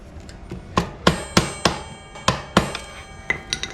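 A plastic mallet taps the lower nut of a RockShox Pike bicycle suspension fork, giving about a dozen sharp, close knocks in an irregular rhythm, with no talking.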